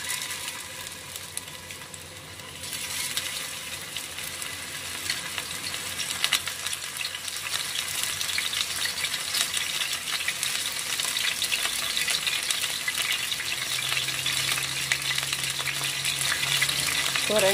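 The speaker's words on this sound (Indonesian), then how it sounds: "Filletnya sudah kita lumuri dengan tepung maizena. Sekarang kita tinggal menggorengnya ya teman-teman." A cornstarch-coated fish fillet fries in a wok of hot oil, giving a steady close sizzle and crackle that grows busier and louder as it cooks, with no talking.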